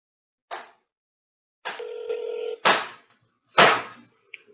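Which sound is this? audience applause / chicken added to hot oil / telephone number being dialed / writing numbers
telephone number being dialed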